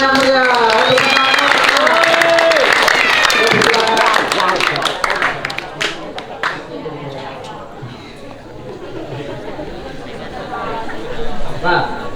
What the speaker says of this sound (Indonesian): Ya, beri tepuk tangan yang meriah.